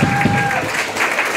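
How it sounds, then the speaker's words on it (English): A crowd at a Paczki dance event in Muskegon, Michigan gives a short round of applause for the workers, a brief patter of clapping mixed with voices. "Come on, we want to give all of the workers a nice round of applause."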